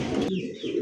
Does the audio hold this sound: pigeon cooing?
yes